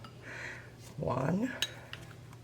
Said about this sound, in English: I'm using my Tupperware measuring spoons